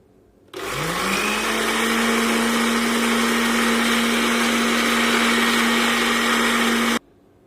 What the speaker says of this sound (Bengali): ব্লেন্ডারের মুক্তি লাগিয়ে নিয়ে ব্লেন্ড করে নেব